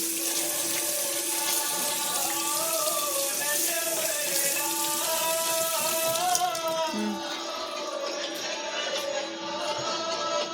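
Tap water runs steadily into a sink while eggs are washed for a home meal of rice and boiled eggs, a continuous splashing flow close by that cuts off near the end, with no speech.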